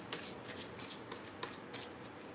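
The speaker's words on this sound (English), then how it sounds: "I don't want to have to stop shuffling to do that." Tarot cards are shuffled by hand, a quiet run of soft riffling bursts and flicks in uneven rhythm, close and alone with no talk.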